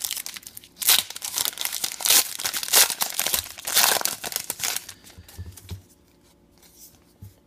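The wrapper of a Golden Age baseball card add-on pack is torn open, with loud, close crinkling and tearing in repeated bursts that fade into quiet rustling at the end.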